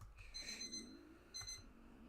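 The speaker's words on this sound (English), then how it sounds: "my alarm's going off" An alarm clock in a video game sounds two bursts of bright electronic ringing, faint and separated by a short gap, with no voices over it.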